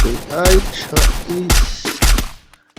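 Gunfire in the mobile battle royale game Free Fire: four or five loud, sharp bursts of shots fired at a steady rhythm. A voice briefly speaks between them before the sound cuts to near silence.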